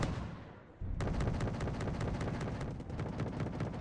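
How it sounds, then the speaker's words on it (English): Explosions from a bombing strike landing in the Wargame: Red Dragon real-time strategy game, a rumbling low roar building then a sharp loud blast followed by dense, continuous crackling detonations close by. "the bombing strike lands"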